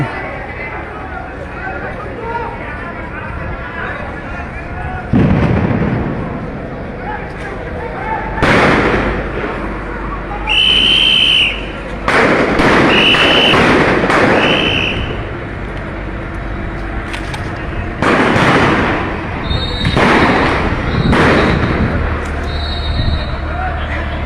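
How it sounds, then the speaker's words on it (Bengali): Gunfire and shotgun blasts ring out during a clash between police and students at Court Point in Sylhet: several sharp, loud bangs at irregular intervals, some in quick clusters, over steady crowd noise and shouting voices. "মুহুর মুহুর গুলির সম্বে গুলির শব্দে প্রকম্পিত হচ্ছে কোট পয়েন্ট"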